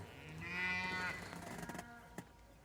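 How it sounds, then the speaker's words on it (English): Cattle in a breeding-season pasture with bulls let out a long, loud moo that rises and then fades, followed by lower lowing and a faint click, with no talk. "There's cows everywhere"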